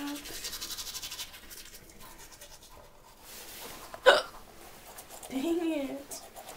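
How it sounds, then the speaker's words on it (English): Hiccups from someone brushing their teeth, a couple of short sharp catches amid scrubbing and breathy sounds, with a voice also heard. "hiccups."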